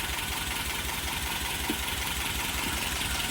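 A rebuilt Toyota 22RE engine idles steadily at operating temperature, a continuous low rumble with a regular pulsing beat heard close up and without any talk.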